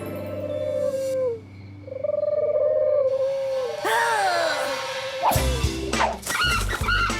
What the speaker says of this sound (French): Crétin de pigeon!